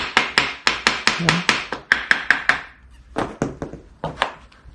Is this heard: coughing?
no